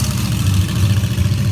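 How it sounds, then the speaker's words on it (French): A monster truck engine roars loud and close, a steady deep rumble with a low throbbing pulse that holds at one level without pause. "Voilà, il fait rugir ce moteur et le fait monter en température."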